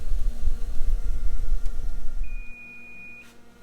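In a home kitchen while honey walnut shrimp cooks, a timer gives a single steady electronic beep lasting about a second after low rumbling kitchen noise fades.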